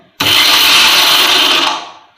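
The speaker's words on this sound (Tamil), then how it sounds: "அதனால் நான் சின்ன மிக்சியில் மாற்றிக்கிட்டேன்" A small electric mixer grinder whirs loudly for about a second and a half, then winds down, close and alone.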